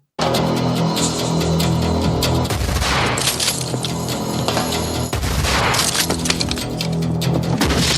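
Dense gunfire and squib effects in the Heat street shootout scene, sustained loud volleys of rapid shots with booms and shattering impacts throughout.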